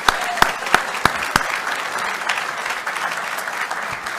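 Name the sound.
applause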